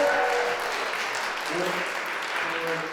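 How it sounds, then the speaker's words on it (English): A crowd at a live performance event claps for the performer Josh Dolan, a sustained wash of applause with a voice speaking over it and occasional cheering. "another round of applause for Josh Dolan"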